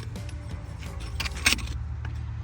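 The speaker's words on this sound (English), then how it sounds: "Not sure if you guys can hear the wheel bearing sound." A steady low mechanical rumble with a whirring, rattling grind from a worn front wheel bearing on a Ford Mustang S550, the wheel spun by hand, a brief metallic clatter near the middle.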